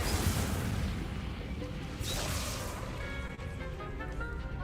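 Incendio fire spell cast in Hogwarts Legacy, a dense roaring burst with booming, crackling energy at the start and another surge midway, over continuous game ambience and music.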